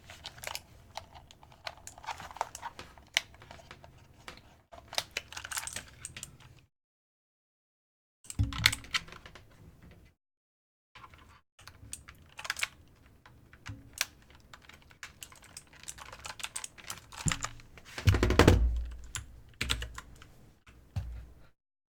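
Typing on a computer keyboard, with close, rapid clicking keystrokes in irregular bursts broken by short pauses and silent gaps, with a louder clatter near the end.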